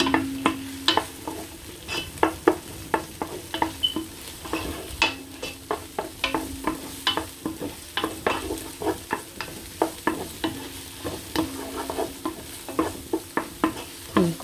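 Spring rolls and vegetables crackle in a hot pan, with frequent sharp pops and spatters over a steady sizzle, close and fairly loud, and no talking.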